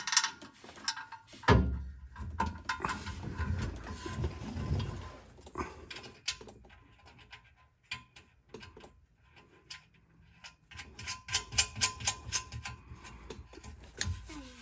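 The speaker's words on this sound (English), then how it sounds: "Let's see if we can put one bolt in just temporarily." Sparse mechanical ticks and ratchet-like clicks come from a bolt being fitted temporarily on a vehicle exhaust. The clicks are quiet and intermittent, with short bursts of metallic handling and a quicker run of clicks toward the end.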